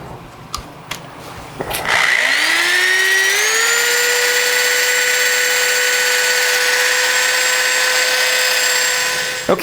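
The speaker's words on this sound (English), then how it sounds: "So I'll get the rest of this sanded off." A coconut shell spins on a lathe as it is sanded. A few knocks come first, then the motor spins up into a loud, steady whirring hum with a rising pitch that settles and holds.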